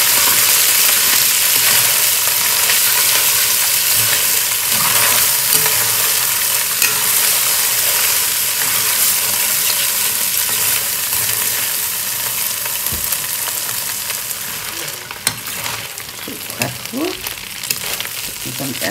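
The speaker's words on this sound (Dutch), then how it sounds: "Even bruin bakken, een beetje." Steady, loud sizzling of Surinamese fish-stuffed bitter melon browning in a hot pan with salt and black pepper, continuous crackle with occasional spits and stirring scrapes, no voices.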